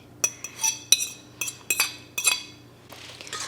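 Cutlery clinks and scrapes against a pot as chicken is stirred into gravy, a series of sharp metallic taps in uneven bursts, close and fairly loud, with a soft wet stirring noise near the end.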